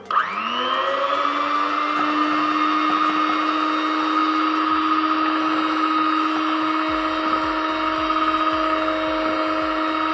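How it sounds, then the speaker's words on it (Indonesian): An electric mixer stirs a herbal antiseptic solid soap mixture, a steady high motor whir that starts sharply and holds unbroken and loud throughout, with no talk. "Lalu kemudian kita mixer, kita aduk."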